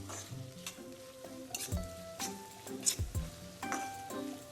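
Biryani ingredients sautéing in oil and ghee over low heat, a faint sizzle with occasional spoon clinks and stirring scrapes, plus some tonal background sounds.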